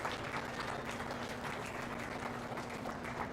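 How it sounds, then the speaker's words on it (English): Quiet, steady clapping from spectators at a county fair goat show, heard at a distance and holding an even level throughout. "let's give all those exhibitors a nice round of applause on a good set of goats"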